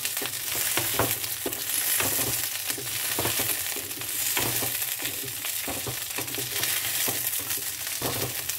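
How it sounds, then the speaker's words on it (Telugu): Chilies sizzle and crackle steadily in hot oil for a tomato pachadi, with a continuous close frying hiss and occasional stirring scrapes throughout. "ఇవి కొంచెం బాగా ఫ్రై అవ్వాలి. మంచిగా కొంచెం ఫ్రై అవ్వాలి ఆయిల్లో."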